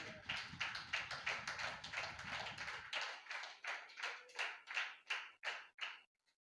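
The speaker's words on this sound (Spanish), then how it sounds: "Alguien dele un aplauso al Señor." A church congregation claps for the Lord in a steady rhythmic beat, with a low murmur under the first half, then continuing as clear, evenly spaced claps that stop abruptly.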